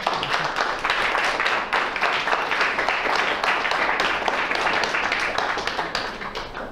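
An audience applauds after a lecture on acupuncture: steady, dense clapping from many hands that fills the whole stretch at an even level, with no pause.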